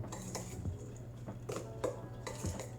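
Spoon stirring chopped red bell pepper into a vegan crab cake mixture in a bowl, with soft repeated scraping clinks against the dish at an irregular pace, close and fairly quiet.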